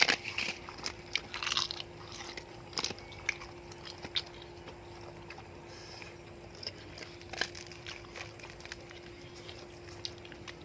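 Someone bites into and chews crispy deep-fried pork, with repeated close crunches and smacking chews over a steady low hum.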